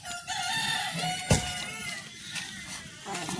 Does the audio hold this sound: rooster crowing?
yes